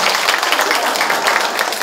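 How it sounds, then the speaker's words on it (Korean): A crowd at a trot music show gives a dancer loud, sustained applause, with the bright clapping filling the whole short moment without a break. "다시 한번 큰 박수 부탁드리겠습니다"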